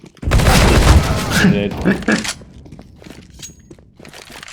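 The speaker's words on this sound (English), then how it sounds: "Throwing flashbang." A flashbang grenade detonating in a tactical shooter game: a sudden loud burst with a crackling, ringing wash that lasts about two seconds before dropping to quieter background sounds and faint clicks.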